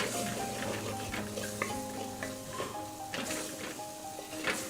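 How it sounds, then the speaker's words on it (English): Chilli and turmeric paste fries in an earthenware clay pot over the flame, a faint, steady sizzle with scattered crackles and light scraping taps, and no talk. "I'm going to lower the flame to low or between medium and low and let this fry for about 2 minutes."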